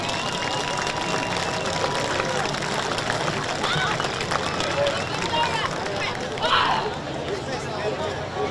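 Crowd at a high school football game applauding the seniors, a steady wash of clapping and cheering from the stands, fairly loud and continuous, with crowd chatter mixed in.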